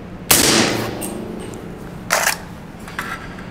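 A Q Honeybadger short-barreled rifle fires subsonic and supersonic rounds, with one sharp report followed by a softer second shot and a faint third, each suppressed and fairly close.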